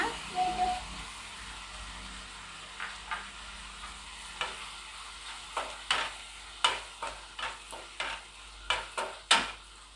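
Tomatoes stirred and fried in a pan while making girmit: a steady low sizzle with scattered scraping stir strokes that grow more frequent toward the end.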